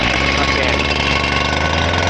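Stihl TS440 cut-off saw engine running steadily at idle, a loud, close, continuous two-stroke drone with a rough buzzing throb and no pauses.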